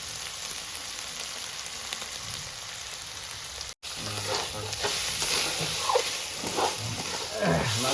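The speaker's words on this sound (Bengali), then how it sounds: "এই যে মাংসটা মোটামুটি ভাজা হয়ে এসছে" Chicken mince fries in a pan with a constant hiss, and scraping stirs grow louder after a brief dropout midway, the sizzle crackling close and strong.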